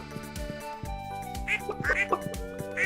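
Ducks on a Stardew Valley farm quack in short bright bursts, several calls clustered in the second half over a gentle tinkling game melody, fairly soft and close.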